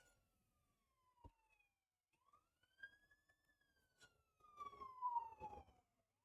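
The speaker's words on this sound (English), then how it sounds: "Gonna be sirens possibly coming through the microphone here momentarily." A distant siren wails in long rising and falling sweeps, faint at first and growing somewhat louder, with some rumbling noise near the end.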